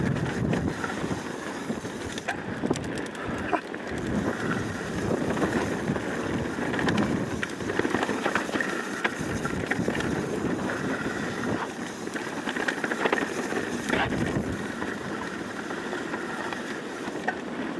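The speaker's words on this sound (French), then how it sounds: "C'est le vent qui me pousse." Wind gusting hard across a boat off Madeira, a steady broadband roar with rumbling buffeting on the microphone throughout, loud and continuous with no talking.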